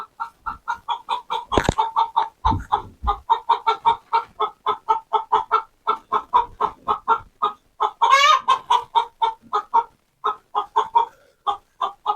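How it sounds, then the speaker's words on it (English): Hens cluck and squawk continuously in rapid, repeated bursts inside a chicken coop, with a louder, sharper squawk rising briefly near the middle, all close by and with no talking. "she ain't laying an egg, she's just in there squawking"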